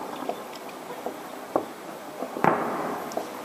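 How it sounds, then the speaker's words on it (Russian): New Year fireworks at Red Square in Moscow crackle and pop far off, a few sharper bangs standing out over a low, steady rumble of distant bursts. "Продолжается салют."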